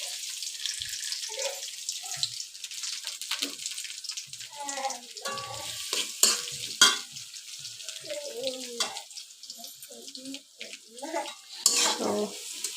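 Chopped onions with green chilies frying in mustard oil in a pan for a beef and cabbage curry, a steady broadband sizzle running beneath clinking utensils and stirring scrapes, with a voice speaking over it.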